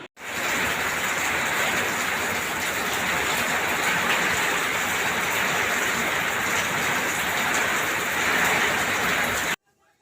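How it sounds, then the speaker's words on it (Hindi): Heavy rain pours steadily in stormy weather, a dense, loud, continuous hiss and patter that runs without a break for nearly the whole stretch before cutting off abruptly. "आप लोगों ने आवाज़ से अंदाज़ा लगा ही लिया होगा कि कितना ख़तरनाक मौसम हो रहा है।"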